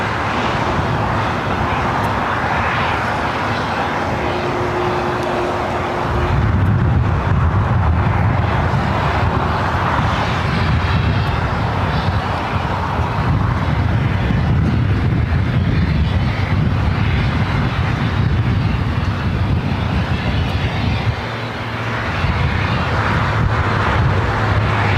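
A Frontier airliner in special Armadillo livery taxis at LAX, a steady broad jet-engine roar with wind rumble that swells after a few seconds and holds, with no voices.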